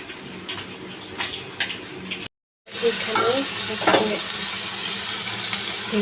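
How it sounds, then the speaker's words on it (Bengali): Fish frying in hot oil that spits and splatters, a loud continuous sizzle with crackling, briefly cut off and then returning stronger and steady. "কাছে যাইতে পারতেছি না কারণ তেল ছিটতেছে"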